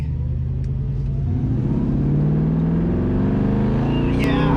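A 1965 Ford Mustang's engine drones loudly and climbs steadily in pitch as it accelerates from a roll, heard from inside with constant road rumble.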